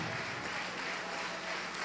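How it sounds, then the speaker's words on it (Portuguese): A church congregation applauding during a service, a steady roar of many hands clapping at even volume, heard from a distance with no speech over it. "Dê o melhor para Deus, a melhor, a melhor salva de palmas"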